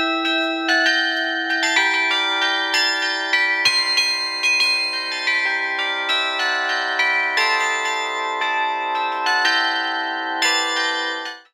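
Carillon bells ring out from the bell tower of the Hoshcha monastery during a carillon and bell art festival, a continuous melody of clear, overlapping bell tones struck in a steady rhythm and sustained until a sudden stop.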